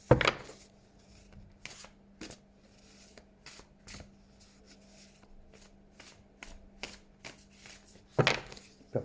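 Tarot cards are shuffled in sharp riffling bursts and soft sliding flicks, close and intermittent, with quiet pauses between.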